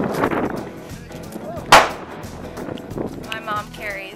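One sharp, fairly close gunshot rings out at a rifle range, cutting through continuous chatter and voices from people standing nearby.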